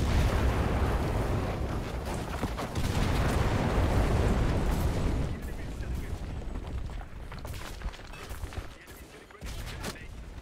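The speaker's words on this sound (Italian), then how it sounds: "Ho preferito chiamare l'artiglieria per ripulire un po' la zona" Artillery strike in the WWII shooter Enlisted, a dense barrage of heavy booms and rumbling blasts for the first half, then thinner, scattered impacts and distant gunfire with a voice talking over parts.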